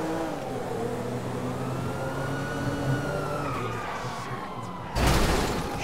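Police siren wailing during a chase in GTA 5, riding over a loud revving car engine, with a sudden louder burst near the end.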